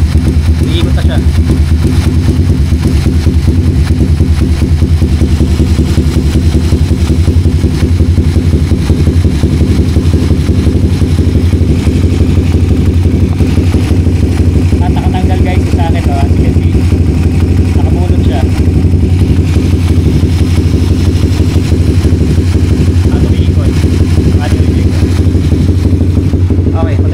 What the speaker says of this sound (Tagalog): nag-trigger, nag-on yung radiator fan nung pinaandar natin yung makina